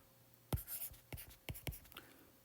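Pen or chalk writing out a physics equation, a few short scratchy strokes and taps spaced irregularly, close and quiet with no speech.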